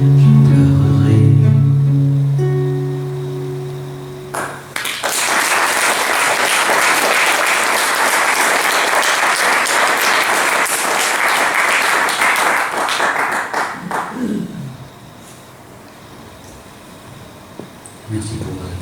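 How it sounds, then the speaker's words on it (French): An audience breaks into loud, sustained applause right after a sung French chanson ends. The clapping is dense and close and lasts about nine seconds before tapering off, and a voice follows. "Merci pour votre applaudissement."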